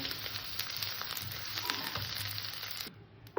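Whole spices, cinnamon and cloves, tempering in hot oil in a pan while cooking paneer, giving a steady close sizzle throughout that cuts off near the end.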